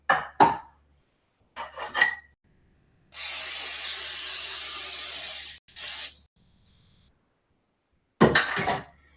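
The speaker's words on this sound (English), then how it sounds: "all I do when I'm using my pans here is just to do a quick spray on each one." Several short bursts of cooking spray onto baking pans, then one long steady hiss lasting a couple of seconds, followed by more quick sprays; close and fairly loud, no talking.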